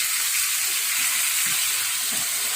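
Chicken pieces hit a pan of sautéed garlic, onion and ginger for chicken curry, giving a steady, bright hiss of sizzling oil with faint stirring underneath and no talking.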